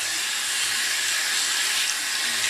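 Steady tap water runs into a sink while soapy hands are rinsed after lathering an oatmeal soap bar, a continuous close hiss and splash with no drain plug in place and no talking.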